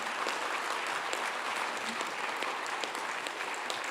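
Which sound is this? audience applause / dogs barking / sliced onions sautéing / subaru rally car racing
audience applause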